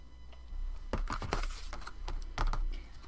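Paper being trimmed for a handmade journal folio, a run of crisp snipping and slicing cuts close to the edges, sharp dry strokes in an irregular rhythm, close and moderately loud.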